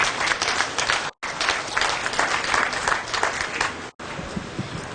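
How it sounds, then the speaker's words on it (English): Ringside crowd at a heifer show applauds the exhibitors with loud, dense, sustained clapping that continues steadily, briefly cut twice by short gaps. "let's give all these exhibitors a big round of applause."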